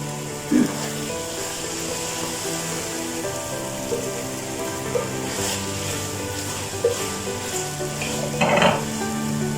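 Okra frying in a pan as garam masala is stirred in, giving a steady sizzle with occasional scraping stirs and a few brief louder clatters, with faint talk in the background.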